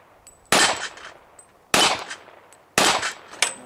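Three sharp, loud .40 caliber pistol shots, evenly spaced, each ringing off steel plates with a metallic clang and a short decaying tail.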